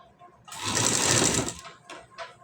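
A sewing machine stitches piping onto the back design of a blouse in one short burst of rapid whirring, close up, followed by faint handling sounds.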